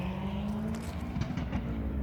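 A car with a loud exhaust passes by outdoors on a cold night, a rising and fading roar with some revving, moderately distant and fairly faint, no speech over it.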